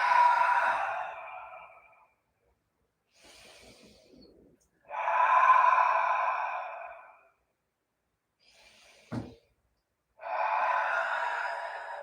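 Heavy breaths during a Rocket-inspired yoga class, several long airy exhales separated by pauses, close and fairly loud, with a brief thump in between.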